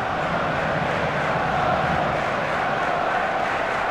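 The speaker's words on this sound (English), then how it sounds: "And the crowd really enjoying it." Steady stadium crowd noise from a simulated Champions League football game, Borussia Dortmund against Arsenal, forming a continuous broad roar with a slight swell midway and no clear speech.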